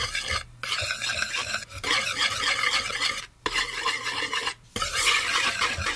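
A dry flour and spice mixture is stirred in a bowl with rhythmic scraping strokes. The strokes come in steady bursts broken by brief pauses, close and fairly loud, with no voices.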